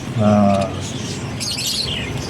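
Pet parakeets chirp in short, thin tweets close by, starting after a loud burst of speech-like voice and continuing faintly under background noise.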